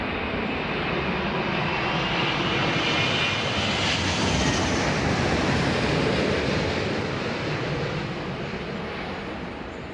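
Airbus A380 landing in a crosswind at London Heathrow, a heavy jet roar that swells to a peak near the middle then slowly fades as it passes, broad and rushing with a windy edge, no voices.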